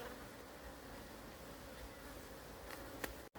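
A steady, dense buzzing of many honey bees close by during a summer honey harvest, continuous and loud, with a brief click near the end.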